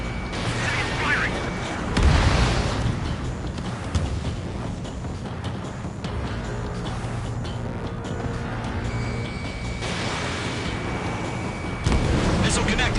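Heavy gunfire and explosions pound a harbor in the Ace Combat 7 flight game, continuous rumbling blasts and booming impacts under urgent radio voices talking.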